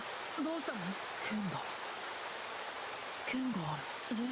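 Steady, even rain pours throughout in Granblue Fantasy, a soft continuous hiss with a voice speaking briefly over it.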